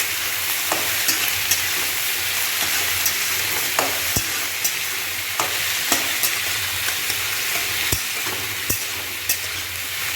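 Onions sizzle and fry steadily in oil for a lunch dish, with a constant hiss and scattered pops and spatters from the pan. Occasional sharper clicks of stirring cut through the frying. No one speaks.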